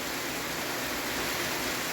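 Persistent rain pours down as a uniform wash of hissing noise, constant in level and close around, with nothing else heard and no talking.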